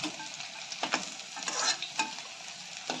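Chicken pakoras sizzle and crackle in hot oil in a wok over a low gas flame, a steady close frying hiss broken by a few sharper bursts as pieces are stirred, with no talking.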